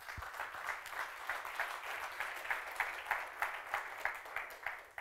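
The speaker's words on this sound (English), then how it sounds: "Big round of applause." Audience applause at a live unconference event, steady dense clapping from a crowd that holds at an even level throughout without fading, slightly distant in the room.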